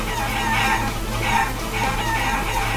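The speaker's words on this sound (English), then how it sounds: "Chickens!" Chickens cluck and crow steadily from the Guacamelee video game, a loud, continuous flock of fowl calls in repeated bursts with no talking.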